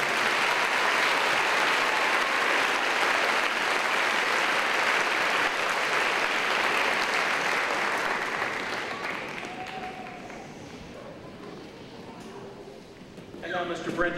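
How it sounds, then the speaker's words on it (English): A crowd at an eighth-grade graduation ceremony gives a sustained round of loud applause that tapers off after several seconds, followed by quieter room sound and a voice speaking. "Could we have one more round of applause for all of our Grand Titans?"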